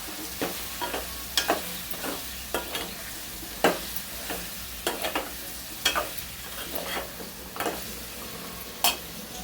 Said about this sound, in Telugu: అలాగే బంగాళదుంప కూడా వేసుకున్నాం. ఒకసారి కలుపుకోండి.